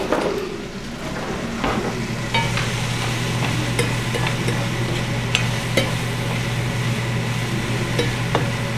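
Shiitake mushrooms and thyme frying in bacon grease over medium heat, a steady close sizzle broken by occasional scrapes and taps of a utensil stirring the pan.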